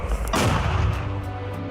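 A single heavy, booming 120mm Finnish mortar shot fires close by, then its deep rumble rolls out and fades over a second or so.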